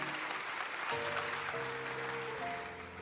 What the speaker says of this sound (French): Kwaśniewski, ancien président de la Pologne, que vous pouvez également applaudir